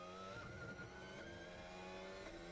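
A Formula 1 car at Barcelona testing, heard as a distant, faint engine howl that holds a high revving tone with small pitch shifts suggesting gear changes, steady throughout and without voices.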